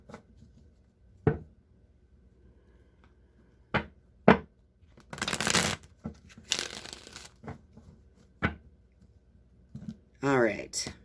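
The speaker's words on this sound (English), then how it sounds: "I'm going to shuffle the Rider-Waite deck now" A Rider-Waite tarot deck being shuffled during a tarot reading, with bursts of riffling and card slapping between scattered taps and handling clicks, close and fairly quiet, ending with a brief rustle.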